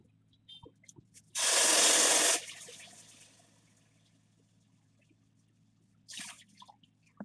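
Water poured into a kadhai holding sugar for Mumbai Karachi halwa, a loud close splashing pour lasting about a second, then a quiet spell and a brief second splash; no talking.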